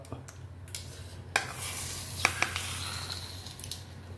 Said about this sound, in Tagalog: Oh, mainit na yung mantika. Unahin natin pagprito ang manok.